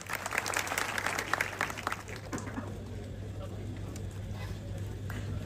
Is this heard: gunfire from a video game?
no